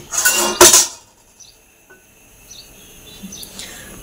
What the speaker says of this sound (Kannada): ಪಾತ್ರೆಗಳೆಲ್ಲ ತೊಗೊಂಡೋಗಿ ಇಲ್ಲಿ ಜೋಡಿಸ್ತಿದ್ದಾನೆ, ತೊಳೆದಿಟ್ಟಿರೋ ಪಾತ್ರೆಗಳನ್ನ